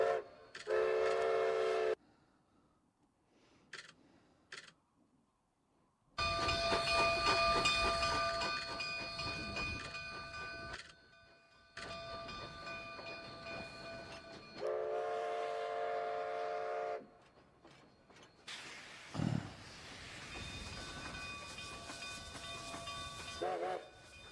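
Train sounds play in the background, with rumbling rail cars and several long horn or whistle blasts that start and stop abruptly at moderate volume.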